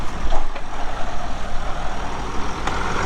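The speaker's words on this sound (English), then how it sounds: "I'll hop out and we'll watch Colby cross in the 1086" An International 1086 tractor crosses a farm field, its engine giving a loud, continuous, heavy rumble with a slightly uneven throb, close to the listener and without voices.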